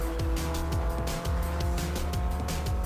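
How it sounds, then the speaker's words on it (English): A 2011 Toyota Aygo in Forza Motorsport 4 accelerates on a one-mile drag run at the Top Gear test track, its small engine revving up and dropping repeatedly through quick gear changes, loud and close. "This is the 2011 Toyota Aygo doing 1 mile drag on the Top Gear test track."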